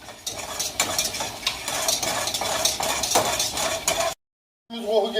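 Flour roasting in a pan for a béchamel sauce, stirred steadily with a spoon, giving a continuous scraping, rustling sizzle with faint clinks against the pan. The stirring breaks off into a short silence near the end, then resumes.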